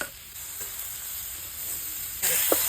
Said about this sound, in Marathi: टाकून घेऊ म्हणजे कांदा आणि टमाटा बरोबर भाजला जाणार आहे।